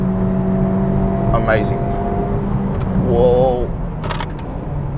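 A Honda Civic Type R FL5, being broken in, drives laps at Sydney Motorsport Park. The engine drones with a steady, rising hum and whine from inside the cabin, and a driver briefly exclaims over it.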